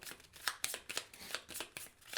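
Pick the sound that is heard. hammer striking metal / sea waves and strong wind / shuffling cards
shuffling cards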